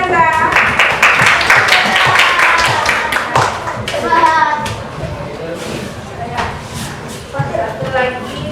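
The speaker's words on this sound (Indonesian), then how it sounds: "Kasih tepuk tangan Gaza." Children in a classroom clapping in bursts, with a voice and chatter over the claps and a rhythmic round of clapping near the end.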